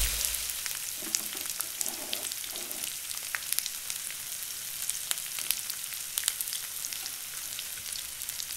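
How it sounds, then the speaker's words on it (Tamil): Ginger garlic paste and onion sautéing in a pan, with a continuous crackling sizzle full of small pops and a few faint stirring scrapes, close and steady throughout, with no talking. "இப்போ இஞ்சி பூண்டு விழுதை சேர்த்து இஞ்சி பூண்டோட பச்சை வாடை போகிற வரைக்கும் வதக்கணுங்க"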